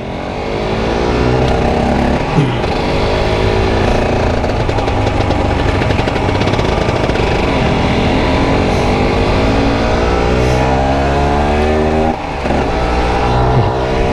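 A loud Cagiva Mito 125 sport motorcycle engine revs hard and steadily climbs in pitch, sustained throughout with a brief dip near the end, no talking.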